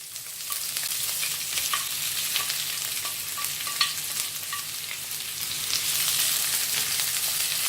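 Coconut pieces and onion sauté in hot coconut oil in a pan for Kerala-style squid roast, giving a steady close sizzle and crackle with a few light stirring clinks, no voices.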